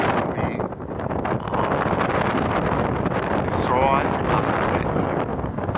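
Steady wind buffets the microphone outdoors at Helix Park in western Scotland on a sunny, breezy day, a continuous loud rushing roar with gusty fluctuations.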